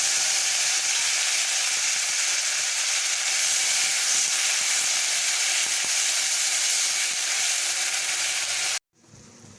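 Onion paste hitting hot oil in a pan with bay leaves, a loud, continuous hiss and sizzle that holds steady before cutting off abruptly near the end, with no talking.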